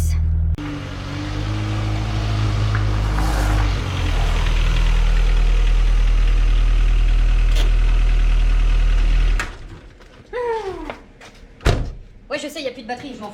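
A car engine rumbles loudly at idle just after being jump-started with cables, then cuts out. Clanks and voices follow in the quieter stretch.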